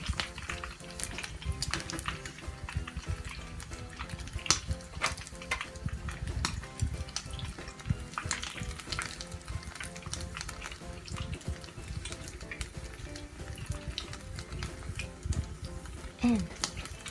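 Kaki-age fritters frying in hot oil, a crackling, bubbling sizzle throughout with scattered pops, under some quiet talk.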